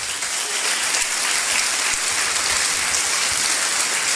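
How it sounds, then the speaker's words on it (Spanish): A room full of people at a business opportunity meeting claps steadily, a dense, even wash of applause that stays loud from start to finish. "Un aplauso a todos los platas."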